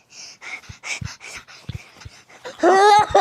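A dog pants in quick, soft breaths and lets out a high whimper close by, while a voice speaks in short bursts between the sounds.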